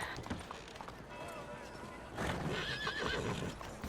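Horse neighing and galloping in Red Dead Redemption 2, with a rush of hoofbeats and a whinny filling the second half of the short clip, and a voice speaking over it.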